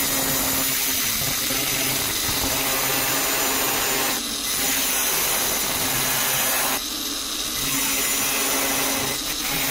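An angle grinder cuts steady and loud through material while building a potato chips machine, a harsh continuous whine with brief dips around the fourth and seventh seconds.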